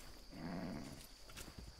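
Horse in Far Cry 6 moving around near the player, with soft muffled hoof and body sounds over game ambience and a brief thump at the end.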